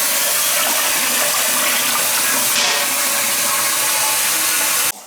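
Water from a leaking shower pours and drips steadily down into a garage below, a loud, continuous hissing splatter that runs unbroken before cutting off abruptly at the end.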